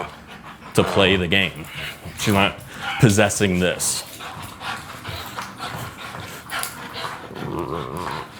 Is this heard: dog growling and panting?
yes